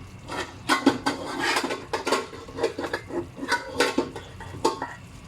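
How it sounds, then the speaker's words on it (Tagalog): A metal pot lid rattles and clinks on a pot of simmering sardines in a home kitchen, a busy run of loud, irregular metallic taps with no talking. "Maingay yung takip."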